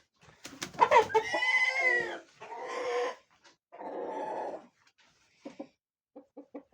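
A breeding chicken in a cage, loud, close clucks and drawn-out squawking calls in several bursts, ending in a run of short, soft, rhythmic clucks.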